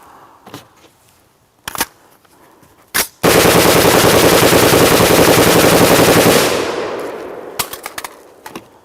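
A POF-USA rifle fires a long, loud, uninterrupted burst of rapid automatic fire during a crash test. The burst runs for about three seconds and is framed by a few single sharp shots and clanks before and after.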